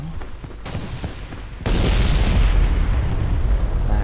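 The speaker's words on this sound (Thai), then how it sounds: "วอลเกอร์ระเบิดแล้ว" A walker mech explodes in Battlefield 2142: a sudden loud, broad blast about a third of the way in, over lighter gunfire rumble, then a sustained heavy roar that continues to the end.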